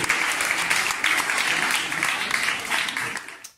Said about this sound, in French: on peut déjà applaudir les premiers sujets qui ont bien fonctionné au test de réceptivité